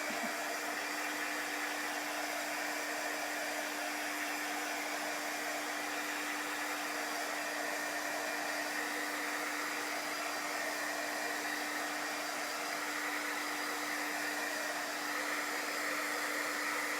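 A hair dryer runs continuously, drying shimmer paste on a Chalk Couture craft project; a steady, loud broadband whoosh with a constant low hum holds unchanged throughout, with no voices.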